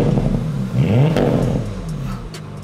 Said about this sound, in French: c'est bien de démarrer le moteur et vous allez voir quelle sonorité exceptionnelle.